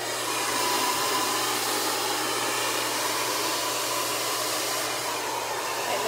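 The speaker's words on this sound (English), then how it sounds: "don't grab too much hair, like taking the time and blow drying it in sections." A hair dryer blows steadily on hair being dried in sections, a loud, unbroken broadband rush of air with a low motor hum underneath, lasting the whole stretch without any talk.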